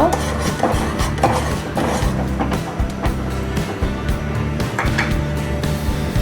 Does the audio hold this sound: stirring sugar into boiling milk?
yes